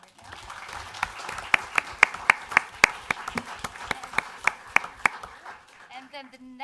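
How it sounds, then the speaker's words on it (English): Sparse, distinct claps from a small audience at a Springville city council meeting, sharp individual hand claps ringing out over a low murmur, then fading into quiet with a brief voice at the end. "we'll give a round of applause right now"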